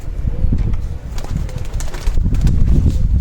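A female pigeon is released by hand and beats its wings in a burst of close, fluttering flaps, with soft handling noises and a faint coo in the background.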